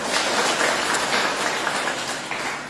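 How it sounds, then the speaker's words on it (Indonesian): Church congregation applauding during a Sunday service: dense, steady clapping from many hands filling the room, sustained and fairly loud throughout. "Tepuk tangan untuk Tuhan Yesus."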